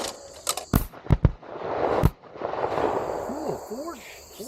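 Four shotgun blasts from a Mossberg Silver Reserve fired at clay targets outdoors, sharp loud reports in quick succession across the first two seconds, followed by a fading echo with insects chirping in the background.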